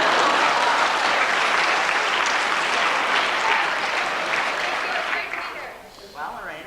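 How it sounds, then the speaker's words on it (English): A TV show audience claps loudly in sustained, dense applause for a guest, fading toward the end as a voice begins speaking. "I want you to just give this lady a warm round of applause"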